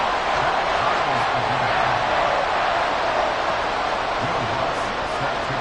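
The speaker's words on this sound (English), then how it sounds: "This crowd alive again." Crowd noise in a Madden football video game, a dense continuous roar from the stadium as the home crowd comes alive after a tying score late in the fourth quarter, loud and unbroken from start to end.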